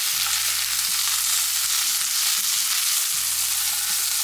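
Paneer pepper fry stirred in hot oil in a pan, a steady broad sizzle with faint scraping strokes running continuously throughout.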